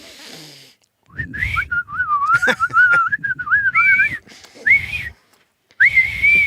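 A person whistles a wavering, tuneful line in several phrases with short pauses, close and clear, with some handling knocks and faint background sounds beneath.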